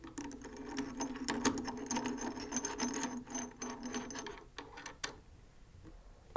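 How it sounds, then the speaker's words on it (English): A screwdriver tightens thumb screws on a UVF handle mount for a Blackmagic URSA camera, giving a close run of small ratcheting clicks and metallic ticks. The clicks stop, then one sharp knock follows after a brief quiet moment. "Use the screwdriver to finish the installation."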